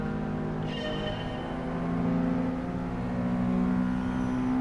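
A 2015 S600 light car engine in the racing game GT Sport, a steady, moderately loud engine hum that swells gradually as it accelerates.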